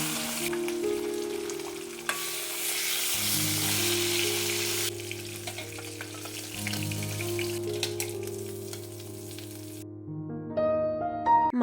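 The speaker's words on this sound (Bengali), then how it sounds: "এখন ভেজে নিচ্ছি" Rohu fish pieces rubbed with salt and turmeric frying in hot oil in a home kitchen, a steady loud sizzle with a few stirring clinks near the end.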